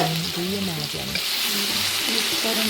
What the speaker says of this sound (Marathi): अशी परतून घेतली मी जिरे आणि मिरची